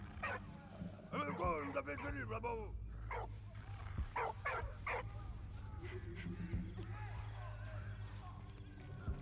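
Dog barks and whimpers in the World War I video game Valiant Hearts: The Great War, several short bursts set against a steady game music and ambience bed, with a voice talking over parts of it.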